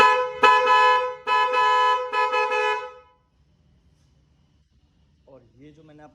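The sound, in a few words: electric horn honking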